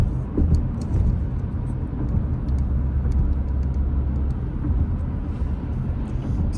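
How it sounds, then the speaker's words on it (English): A car cruising across the Mackinac Bridge on a clear morning, a steady, loud low rumble of tires and road noise with a droning hum and no pauses. "It's a beautiful morning to be driving across the bridge."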